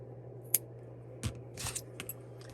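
Scissors snip a knitted yarn end in a quiet room, giving a few short, faint cuts and clicks spread over a couple of seconds.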